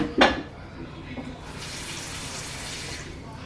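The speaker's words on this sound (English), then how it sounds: "let me put some water in the top right here" Water runs from a tap into a cooking pot during a weeknight family dinner preparation, a steady rushing flow after a brief clatter, moderately close and continuing alone for a few seconds.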